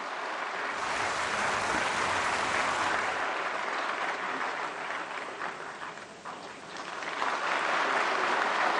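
Sustained audience applause for the Prime Minister at a ceremony releasing a book on Pandit Madan Mohan Malaviya, a dense, loud wash of clapping from a large crowd that holds steady, dips briefly, then swells again.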